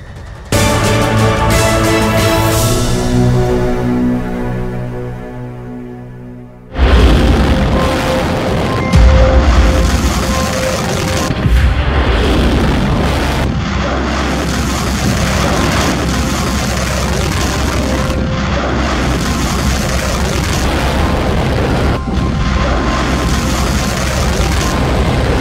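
An Iranian missile launch, a low rumbling idle that breaks into a sudden loud roaring blast and then a sustained heavy, dense thunder of rocket exhaust that continues steadily to the end.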